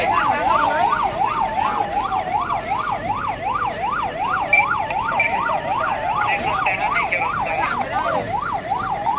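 A fire truck's wailing siren rises and falls in rapid, steady cycles, loud and continuous throughout, with faint traffic noise underneath, at a row-house fire near a temple in Ratchaburi, Thailand.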